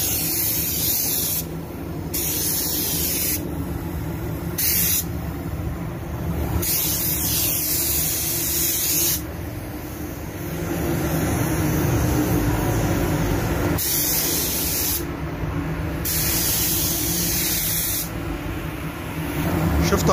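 A spray gun lays a coat of red varnish over a car hood set on a rotating stand, a steady loud hiss that cuts in and out in repeated passes over a constant low drone.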